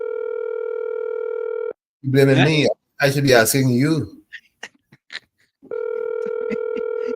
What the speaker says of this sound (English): Phone ringing, boy.